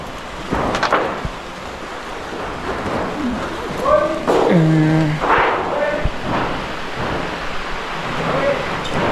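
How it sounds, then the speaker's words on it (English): Rain and rumbling thunder during roofing tile installation in Ruiru, a broad wash of falling rain with low rolls beneath, while people talk over it intermittently. "It's raining."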